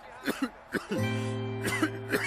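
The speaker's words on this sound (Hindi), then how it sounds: "हम आपकी खांसी की बात कर रहे हैं" A few short, sharp coughs, then a sustained humming tone that runs under more brief cough-like bursts.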